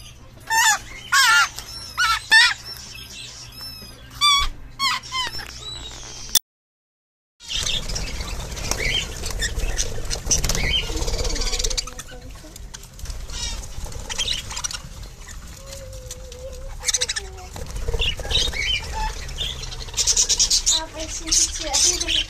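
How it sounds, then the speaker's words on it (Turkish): Cockatiels in a pet shop chirp and call in rapid, shrill bursts, with a brief silent gap before a busier stretch of overlapping calls and shop noise, and voices faintly underneath. "Bunlar sultan papağanı."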